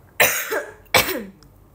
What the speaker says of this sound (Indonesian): Cek batuknya maksudnya.